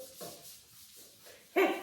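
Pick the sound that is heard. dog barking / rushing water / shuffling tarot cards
dog barking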